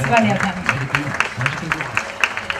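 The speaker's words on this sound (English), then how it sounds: "a thunderous round of applause, ladies and gentlemen" Awards ceremony audience claps in scattered, steady beats beneath an announcer's voice, a moderately loud patter of hands throughout.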